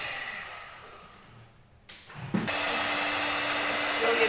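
An electric mixer beating oil and eggs for chocolate muffin batter: a quiet room, a short clatter as it starts, then a steady high whirring motor that runs on without pause.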